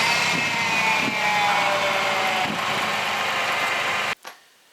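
The engine of a 2000 Chevy S10 pickup, just back together after a fuel pump replacement, runs loud and steady with a whining hum, then cuts off abruptly near the end, leaving near silence.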